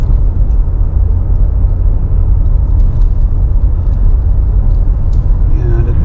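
A car drives along a road on the west side of Mount Desert Island, Maine, near Tremont. A steady, loud low rumble of engine and tyres fills the cabin throughout with no break.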